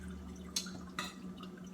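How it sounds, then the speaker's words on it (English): Liquid floor wash being poured and strained, quiet drips and splashes: two brief clear splashes over a faint steady background hum, with no talking. "pour it in, straining it out without making too much of a mess"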